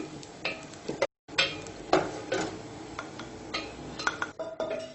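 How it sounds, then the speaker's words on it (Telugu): Cashews frying in melted ghee in a pan, with a light sizzle under repeated stirring and scraping clinks of a utensil against the metal, fairly close and moderately loud, without speech. "నెయ్యి మెల్ట్ అవ్వగానే జీడిపప్పు యాడ్ చేసుకొని ఫ్రై చేసుకుందాం"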